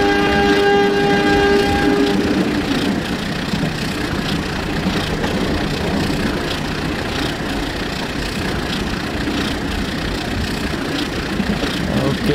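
Locomotive of the KA 458 Bandung Raya local train accelerating in Trainz Simulator, a steady loud engine drone with rail rumble throughout, a brief horn-like tone at the start, and faint talk underneath.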